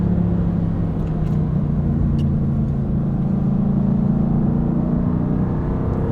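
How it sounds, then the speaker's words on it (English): A Mercedes-AMG GT R Pro drives at speed on the Hockenheim track with a loud, constant engine drone and road roar, its pitch holding nearly steady and easing slightly late on, heard from inside the cabin. "I'm on Hockenheim driving an AMG GTR Pro on the track with professional instructors"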